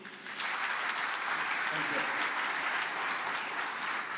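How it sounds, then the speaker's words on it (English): Audience applause for N. R. Narayana Murthy at a forum: a steady, moderate burst of clapping from a crowd that swells in quickly and holds for a few seconds, with a brief spoken word near the end. "big round of applause for Mr. Murthy"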